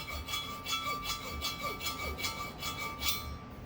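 A blade scrapes rough burrs inside a StingRay carburetor port during porting and blending, giving a faint rhythmic rasping in repeated strokes, close and quiet, with no voices.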